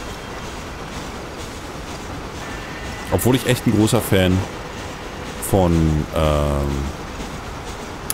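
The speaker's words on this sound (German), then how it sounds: "Wir fahren jetzt noch ein bisschen Zug" A train ride in the Red Dead Redemption video game: a steady, broadband rolling rumble runs throughout, with a voice talking over it in two stretches.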